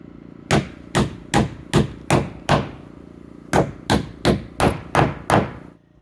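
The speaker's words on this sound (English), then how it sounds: "we're gonna have to hit those with a regular hammer" A regular hammer drives nails into hardwood beams in two bursts: six evenly spaced sharp, ringing blows, a short pause, then six more, each strike loud and close with a quick decay.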